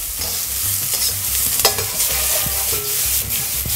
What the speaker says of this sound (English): Okay, so it's starting to smoke, the oil's there. Onions in.